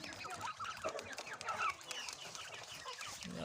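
European white giant quail give soft, scattered clucks and chirps from a flock close by, over a low background hum.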